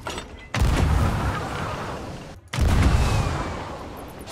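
In the pirate game Sea of Thieves, two heavy ship-cannon blasts go off about two seconds apart, each a sharp loud boom trailing into a rumbling decay.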